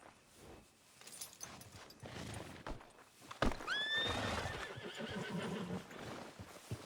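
A horse whinnies sharply in the middle of the scene, with hooves clip-clopping around it over a soft outdoor game soundscape in Red Dead Redemption 2.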